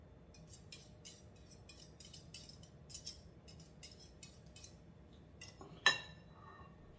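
Greek yogurt being scraped from its container with a utensil, a run of soft repeated scraping and light clinking strokes close by, ending in one sharper clink, no talk.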